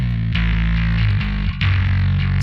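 A deep, distorted bass line plays on its own, heavy sustained low notes changing pitch with brief breaks between phrases.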